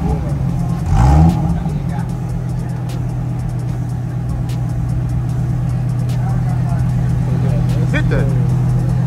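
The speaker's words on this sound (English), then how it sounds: "he didn't even rev it for real" At a Cars and Coffee meet in Nashville, a nearby car engine idles with a deep steady drone, giving a brief sharp rev near the start and another short blip near the end, while people chat nearby.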